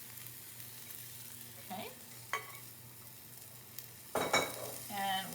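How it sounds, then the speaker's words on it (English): Egg mixture stirred into vegetables in a frying pan for a frittata, soft scraping and faint sizzle building to a louder stir near the end, with a brief spoken word early on. "So I'm mixing the egg mixture right in."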